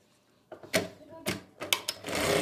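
A sewing machine stitching the neckline of a side-pleated kurti, short whirring runs starting and stopping, close and moderately loud, with a longer steady run at the end.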